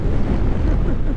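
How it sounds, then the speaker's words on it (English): Strong wind roars and buffets the microphone in a steady, heavy rumble, continuous and loud throughout. "Very windy."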